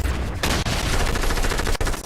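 Loud gunfire bursts from a shooter video game, with rapid shots layered into a dense, continuous volley and one brief break near the end. Close and harsh, with no talking.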